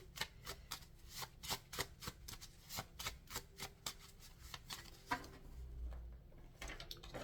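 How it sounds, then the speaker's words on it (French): Marseille tarot cards, the edition illustrated by Victoria Dorche, are shuffled and drawn: a quiet run of crisp, rhythmic card flicks and riffles, close up, ending in softer sliding and handling, with no voices. "je vais d'abord tirer une carte des arcanes majeures du tarot de Marseille"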